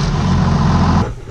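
The engine of a 826 tractor, fresh from a fuel filter change and engine oil change, runs with a loud, steady low diesel rumble for about a second before cutting off abruptly.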